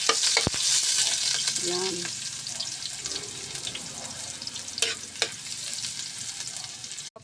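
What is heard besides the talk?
ingredients frying in hot oil in a pan, cooking chicken adobo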